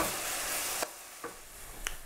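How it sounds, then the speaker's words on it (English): Onions sautéing in a pan for chicken curry, a soft hiss of frying that fades after a moment, followed by a couple of quiet stirring taps, faint and close. "So we have the onions sauteing."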